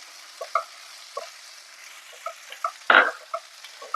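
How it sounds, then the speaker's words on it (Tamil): Chopped tomatoes being sautéed with ginger-garlic masala in a pan, a faint steady sizzle broken by soft wet scrapes and stirring clicks, with one louder scrape near the end. "இப்போ நம்ம கட் பண்ணி வச்சிருக்கிற தக்காளி இதில் சேர்த்துக்கலாம். தக்காளி சாஃப்ட் ஆகுற வரைக்கும் நல்லா வதக்கிக்கோங்க."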